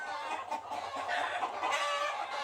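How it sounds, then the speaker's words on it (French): Fighting roosters raised on a vanilla plantation cluck and call repeatedly, fairly close and clear, in a steady run of short throaty bursts with no talk over them. "Ces coqs de combat qu'il prépare comme des athlètes de haut niveau."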